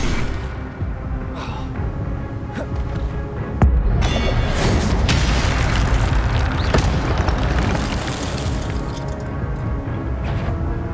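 In Hogwarts Legacy, an Incendio fire spell blasts with a loud booming burst that rolls into a sustained roaring crackle of flames, dense and continuous over game sounds.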